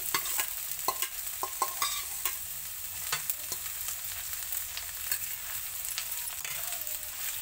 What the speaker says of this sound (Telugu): వేసేసి ఇలా కలుపుకోవాలండి. ఇది బాగా వేగాలండి.